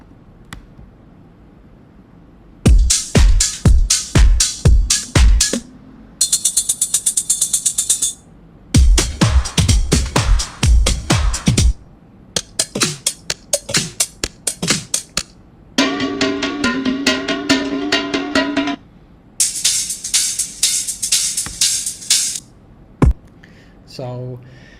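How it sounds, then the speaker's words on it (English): A sequence of short neural-network-generated drum and percussion hits in separate bursts, some punchy and low, others bright and metallic or tonal, with no talking. "this network that learned how to come up with new drum sounds"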